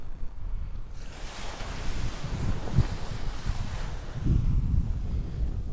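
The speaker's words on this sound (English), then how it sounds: "Hear those waves crashing." Ocean waves crash and roll onto a beach by Capones and Camara Island in the Philippines, a steady roar that builds in surges, heard close with some wind buffeting the microphone.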